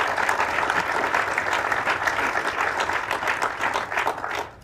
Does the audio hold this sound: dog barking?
no